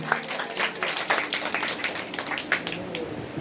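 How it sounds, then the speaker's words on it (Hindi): A church congregation clapping hands in praise at the closing day of a prophetic gathering, an even round of claps ringing through the hall with no talk over it. "ताली बजाकर महिमा करें।"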